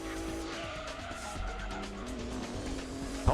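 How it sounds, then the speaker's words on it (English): Racing car engine in Gran Turismo 2 holds a steady revving drone with tire squeal, ending in a short sharp burst like a dump valve release, speech faint underneath. "Yeah, this engine sound cool. Dump valve go pshoo."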